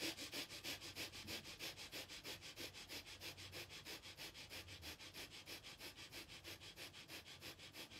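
Rapid, rhythmic nasal breath-of-fire breathing during a womb yoga routine, steady sharp sniff-like pulses about four per second, close and fairly loud, with no talking.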